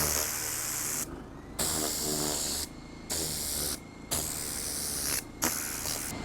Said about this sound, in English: it's definitely very useful on mats to loosen up that debris and blow it away